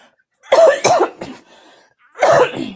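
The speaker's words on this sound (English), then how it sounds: "you can tell I just ate because I am coughing up a storm" Several harsh coughs in quick bursts, then a brief pause and one more loud cough, close and clear with no talking.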